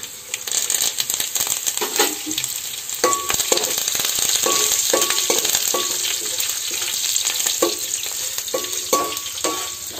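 Curry leaves and onions frying in oil for a ridge gourd fry, a constant close sizzle broken by repeated metallic scraping and clinks of a spoon against the pan.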